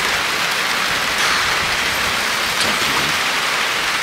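Heavy rain pours steadily onto surfaces, a loud, unbroken hiss of falling water with no voices.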